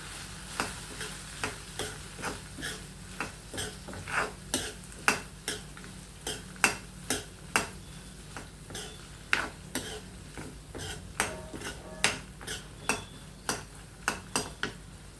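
Turkey berries (sundakkai) dry-roasting in a pan while a spatula stirs them: steady, close scraping and clicking strokes in an uneven rhythm over a low background hum, with no voices.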